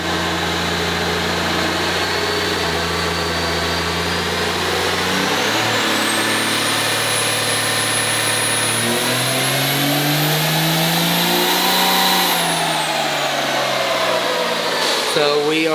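A turbocharged fourth-generation truck engine on a chassis dyno roars continuously and loudly, pitch climbing steadily through a long pull with a rising turbo whistle before dropping off at the end.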